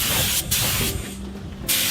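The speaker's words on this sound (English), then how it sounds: "Just spraying everything up." Spray paint hisses steadily in close bursts over pallet-wood boxes outdoors, pausing briefly twice between long passes, with no voices.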